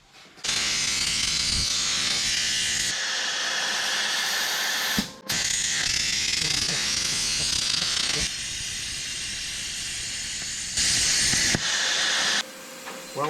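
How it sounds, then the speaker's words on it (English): A tool cuts a 5-inch hole in metal for a truck fabrication part, giving a loud, sustained hissing grind in several long passes with brief breaks between them, close up. "we're going to cut another hole. And we're going to cut it, the diameter of it is going to be 5 inch."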